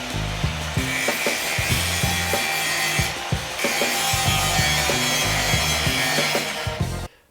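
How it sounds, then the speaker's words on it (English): Power grinder working down weld beads on the body of a BMW E36 Touring, a loud, close, continuous abrasive whine with rhythmic pulsing motor chatter that cuts off abruptly at the end. "now I will be grinding down the welds I made."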